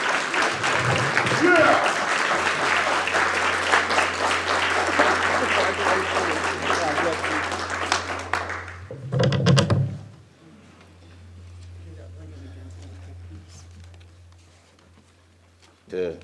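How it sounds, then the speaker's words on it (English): Loud, sustained applause from an awards ceremony audience fills the space for several seconds, then stops abruptly, followed by a brief word, a thump and a low hum. "thunderous applause"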